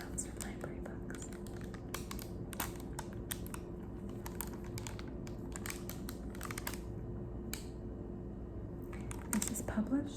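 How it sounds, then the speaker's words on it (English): Crinkly plastic covers on library paperback books rustle and crackle in close, quiet bursts of small crisp taps and crinkles, with brief pauses between handling. "Here's the wonderful crinkly sounds from library books."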